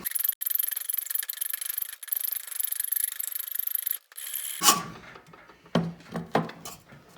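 A large metal file rasps back and forth, first in a steady run of harsh, hissy strokes and then in a few slower, separate scrapes, close up with no talking.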